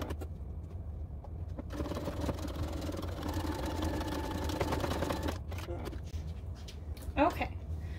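Sewing machine running a steady eighth-inch top stitch along a patchwork tote bag, a continuous mechanical whir holding for several seconds before stopping, heard close under background noise.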